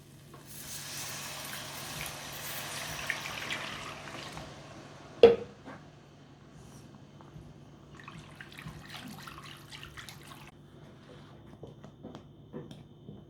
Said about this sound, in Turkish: Tereyağı ve unu kavurduktan sonra da sütü ekliyorum. Toplam 1 litre süt ekleyeceğim.